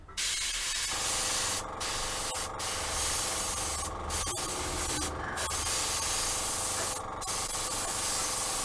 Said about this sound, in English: I'm going to spray down here this time on the other side